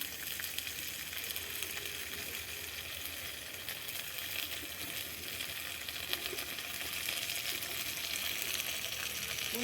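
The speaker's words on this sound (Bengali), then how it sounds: "দু তিন মিনিট আমি সবজিটা ভেজে নেব।" Mixed colorful summer vegetables fry in a pan with a dense, even sizzle that holds steady and close for the whole stretch, slightly louder toward the end, with no voices.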